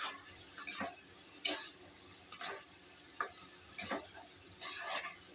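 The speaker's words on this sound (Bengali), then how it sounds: "এই আলু কটা এর মধ্যে দিয়ে দিচ্ছি। দিয়ে আবার একটু ভালো করে নাড়বো।" Fried potatoes stirred into a pan of Bengali fish curry: separate spatula scrapes and clinks every second or so against a faint sizzle, close and fairly quiet, with no talking.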